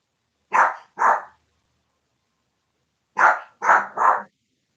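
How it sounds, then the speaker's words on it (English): A female dog barks five times in two bursts, a pair and then a quick triplet after a pause of about two seconds. The barks are sharp and close, with no other sounds around them. "If you hear the dog barking,"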